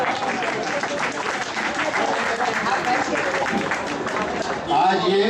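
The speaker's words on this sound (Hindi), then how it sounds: "आज से खड़े होकर सब तालियां बजाइए," A packed room at a senior citizens' music and poetry club in Andheri, Lokhandwala rises in a standing ovation, with loud, dense, sustained clapping filling the whole stretch and a voice breaking through near the end.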